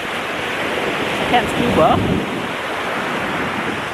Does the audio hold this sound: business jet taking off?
no